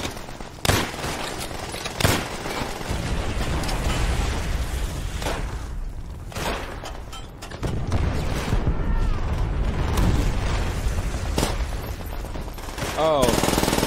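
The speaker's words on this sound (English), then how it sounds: "These guys just master synchronized grenade throwing." In Call of Duty: World at War, grenade explosions and gunfire form a dense, loud battle din, with repeated heavy blasts and rattling bursts of shots over a continuous roar.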